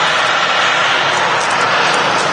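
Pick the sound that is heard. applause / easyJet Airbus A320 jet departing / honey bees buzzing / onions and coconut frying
easyJet Airbus A320 jet departing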